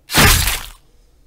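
A short, loud burst of crunchy impact noise from a video game Q ability, current version, with a bright, gritty texture, fading out within about a second, with no voices.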